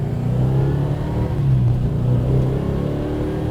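A 1968 Plymouth GTX engine rumbles and revs steadily while the car drives around a corner, a deep, loud, continuous engine drone close to the microphone.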